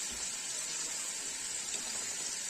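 Fresh chopped fenugreek leaves being rinsed under running water, a soft continuous hissing flow, fairly faint and steady throughout.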